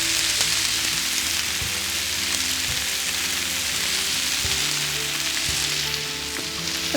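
Chicken sizzles and fries steadily on a hot Blackstone griddle, a loud constant crackle with occasional scrapes and taps of a utensil, no talking.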